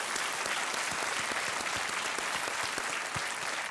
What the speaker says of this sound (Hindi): तालियों के साथ इनका अभिनंदन करते हैं